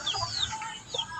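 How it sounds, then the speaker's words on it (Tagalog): A tall, gold-colored asil-type chicken gives a few short, close clucks in a brief burst. "Yung klaseng manok na mataas."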